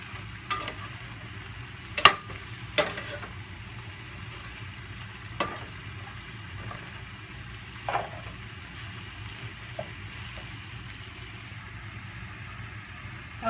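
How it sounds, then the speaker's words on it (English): Ground turkey and vegetables sauté in a pan over medium heat, a soft steady sizzle running throughout with occasional sharp clicks and scrapes of a utensil stirring. "Okay, so that's been sauteing for a few minutes."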